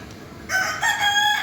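A tiger rooster crows nearby, a single loud, bright call that rises after a brief quiet start and holds for about a second, with no voices.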